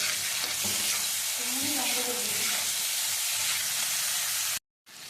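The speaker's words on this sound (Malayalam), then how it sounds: "ചെമ്മീൻ ഏകദേശം ഒന്ന് വെന്തിക്കുന്നത് നമുക്ക് ഇഞ്ചി വെളുത്തുള്ളി പച്ചമുളക് പേസ്റ്റ് ഇടാം" Ginger, garlic and green chilli paste sizzles with prawns in a pan, a steady close frying hiss with stirring scrapes throughout, then a brief cut to silence near the end before the sizzle resumes.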